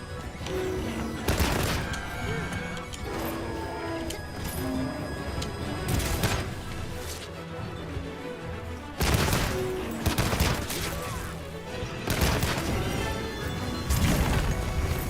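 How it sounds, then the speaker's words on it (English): Gunfire from a ranged weapon in Monster Hunter Wilds striking a monster's tail, with repeated loud volleys of sharp shots and impacts arriving in clusters roughly every few seconds over steady game noise. "Oh, I can actually shoot the tail."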